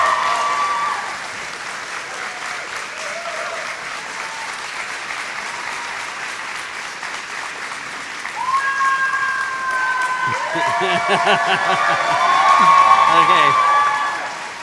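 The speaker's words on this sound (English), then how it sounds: "I think their applause was a little louder and a little longer, so let's try again" Graduates at a Peterborough convocation ceremony give a loud, prolonged round of applause and cheering that swells toward the end, with a speaker's voice briefly heard over it.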